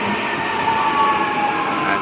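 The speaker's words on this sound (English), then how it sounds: "suburban train arriving at Ebbw" A suburban train pulls into Ebbw Vale station near Ipswich, a steady rumbling roar with a faint tonal whine from the wheels, continuous and fairly close.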